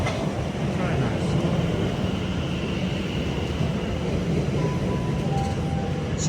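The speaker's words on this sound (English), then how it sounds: "Oh, here's our train now." London Underground District line train pulling into a platform, a steady rumbling roar of wheels and motors filling the station, with a faint high whine near the end.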